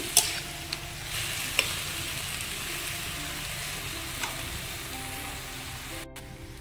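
Malabar spinach cooks in a pan with turmeric powder, giving a continuous close hiss of sizzling, with a few light clicks and scrapes of stirring scattered through; no voices.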